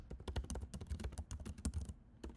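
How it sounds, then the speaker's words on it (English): Rapid typing on a computer keyboard, a quick irregular run of close, crisp key clicks with a brief pause near the end before a few more strokes, no talking over it. "I don't know why I was typing website"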